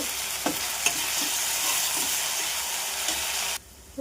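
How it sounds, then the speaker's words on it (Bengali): Mung dal fries in a pan with a steady, loud sizzle, while a spatula stirs it with a few soft scraping knocks. The sizzle cuts off abruptly near the end. "মুগের ডালটা লাল লাল করে ভেজে নেব"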